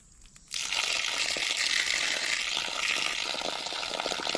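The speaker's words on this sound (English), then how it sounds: "We're going to pour off a little bit more." Water pouring off soaked eggplant seeds in a container, a steady close splashing and trickling with a gritty, crinkly texture that starts abruptly and runs continuously.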